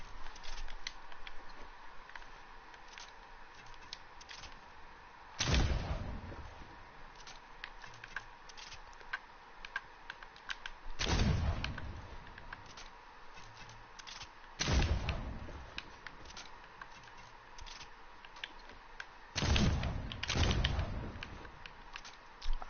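Four loud, booming flintlock pistol shots in a video game, spaced several seconds apart, each a sharp crack with a decaying rumble over quiet ambient background.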